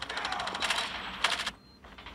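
Rapid automatic sniper rifle fire in Call of Duty Mobile, a fast burst of loud, close shots for about a second and a half, then a brief second burst before a quieter tail.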